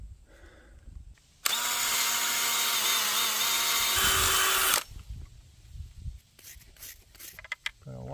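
A power drill or impact tool runs in one loud, steady burst of about three seconds while bolting a clamp onto a well liner set in liquid cement, its pitch dropping near the end, with quieter clanks and handling noise around it.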